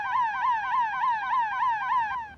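Siren sound effect used as a cue on a game show, wailing rapidly up and down in a steady repeating warble for over two seconds, loud and clear with no voices.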